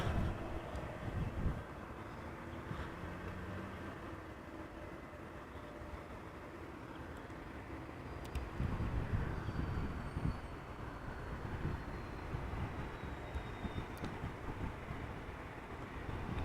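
KLM Embraer E2 195 airliner arriving at the airport, a distant, low, wind-buffeted rumble that swells and fades over a long stretch with no clear voices.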